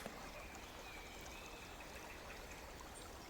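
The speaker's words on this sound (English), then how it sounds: "The mild sounds of flowing water ease like a song without words or haste." Gently flowing river water streams steadily along a riverbank, a soft continuous wash and trickle heard alone with no voices, faint and even throughout.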